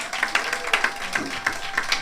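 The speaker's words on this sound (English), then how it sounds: "Give them another round of applause" Returning alumni at a school alumni day receive applause, a modest, uneven patter of clapping with distinct individual claps from a small group, fairly near.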